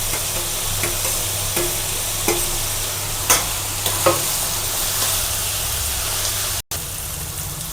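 Peas, corn and other vegetables for poha kachori filling stir-fry in a pan, giving a steady close sizzle with a few soft scraping stirs and a brief dropout near the end, no talking.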